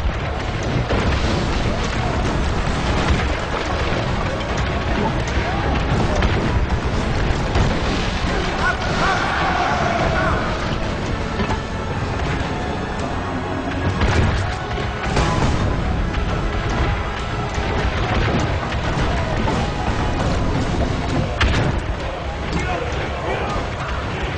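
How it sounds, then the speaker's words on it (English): Cannon fire and explosions in the Assassin's Creed Brotherhood video game make a dense, continuous rumble of booms and blasts throughout, running under a narrator's voice. "more memorable moments filled with different experiences such as this cannon gameplay sequence"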